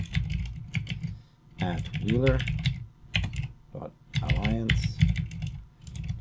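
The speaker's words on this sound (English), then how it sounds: "So I can just type SSH, my username," Rapid clattering keystrokes on a computer keyboard as an SSH command is typed into the Windows 10 command line, in bursts throughout, partly under someone speaking.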